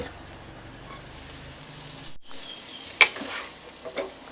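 Small freshwater shrimp with ground pepper and light soy sauce stir-fry in a pan, a faint steady sizzle under low hiss, with a sharp utensil clink and a couple of soft scrapes near the end.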